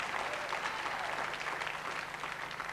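Studio audience on the 1990 BBC2 panel show Juke Box Jury claps and cheers in a continuous, even wash of applause, moderately loud and unbroken for a few seconds.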